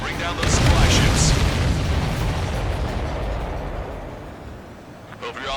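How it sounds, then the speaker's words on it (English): A missile strikes a supply ship in the Ace Combat 7 flight game, setting off a heavy, rumbling explosion that booms loudly at first and then rolls on as a long fading roar. "That's a confirmed direct hit by the missile."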